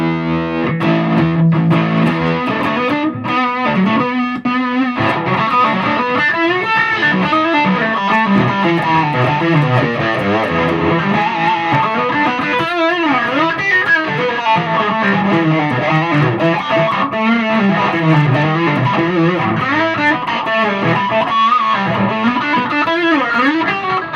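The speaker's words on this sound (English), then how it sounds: "Well, it's got a funny sound because that tremolo's on." Electric guitar played through a Supro Black Magick 25-watt tube amp with its tremolo engaged, loud and distorted with a pulsing, wavering tone across sustained chords and melodic lines, alone without talk.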